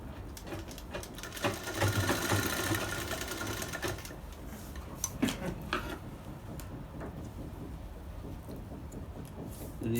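Sewing machine stitching a bridal sharara, a steady rapid whirring run for the first few seconds that eases into a lighter, intermittent stitching hum, close and alone.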